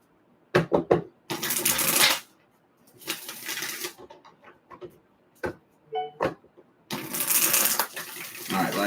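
A deck of tarot cards is shuffled in several bursts of crisp riffling, separated by short pauses and a few single taps and thuds of cards on a surface, heard close up.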